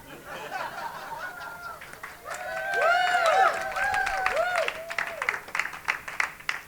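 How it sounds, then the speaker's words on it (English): A comedy club audience applauds with cheers and whoops, the clapping swelling to a steady peak before thinning into scattered claps and murmured chatter. "I see some men not clapping at that."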